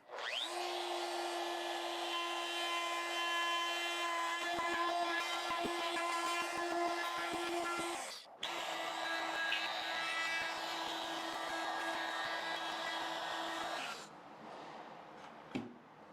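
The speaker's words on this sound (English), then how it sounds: "I will go around with the 3/8 inch bit just to get those corners sorted out" A router with a 3/8 inch bit trims the pickup cavities of a guitar body, a loud sustained high whine that cuts out briefly, resumes, then stops into quieter handling noise.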